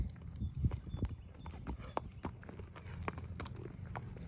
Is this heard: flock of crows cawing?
no